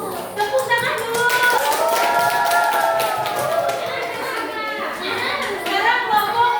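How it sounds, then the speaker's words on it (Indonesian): Schoolchildren in a classroom clap in a brisk, dense burst while a voice and children's chatter carry over it. "Tepuk tangan dulu."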